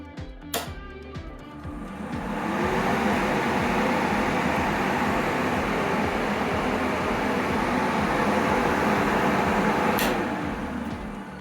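A click, then a loud workshop vacuum extraction system roars up to a steady whooshing drone of suction that holds evenly before another click shuts it down.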